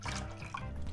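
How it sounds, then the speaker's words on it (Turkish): Milk pours into crepe batter for the chicken crepe rolls, a short soft liquid stream splashing steadily for about a second, close and fairly quiet with no talk over it. "Kalan sütümü de ekliyorum"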